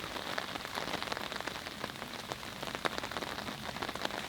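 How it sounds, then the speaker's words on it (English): Morning rain falls steadily on surfaces outdoors, a continuous close hiss with scattered sharper drops ticking through it and no voices. "We were greeted by rain this morning"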